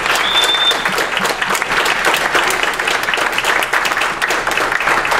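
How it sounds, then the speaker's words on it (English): Sustained applause from a university debate audience honoring the moderators, a dense, steady wash of many hands clapping at close range, loud and continuous throughout with no break. "For the moderators, round of applause."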